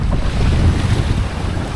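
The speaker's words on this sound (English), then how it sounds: "It's probably blowing about 15 knots," Strong wind of about 15 knots buffets the microphone with a low, steady roar while sailing a small trimaran, with water sloshing faintly beneath it and no voices.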